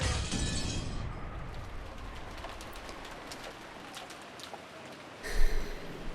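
Rain effect from the Umineko visual novel game, a steady broadband hiss of downpour with a brief louder swell near the end, no speech.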